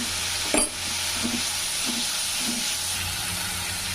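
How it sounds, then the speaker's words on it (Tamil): A steady sizzling hiss of tomatoes sautéing in a pan with turmeric, with a few soft scraping stirs and a brief knock near the start. "தக்காளி நல்லா வதங்கிருச்சுங்க"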